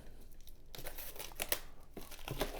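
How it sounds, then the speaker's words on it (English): Plastic wrap is ripped and crinkled off a budget tablet's box: a burst of close, crackly tearing and crumpling that comes in several rough surges with no one speaking. "It's going to rip the plastic off."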